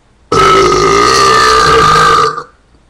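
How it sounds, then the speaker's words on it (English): One long, loud, deep burp from a person, sustained for about two seconds at close range before trailing off, heard alone without talk. "you know that time when you burp and, like, you have extra gas"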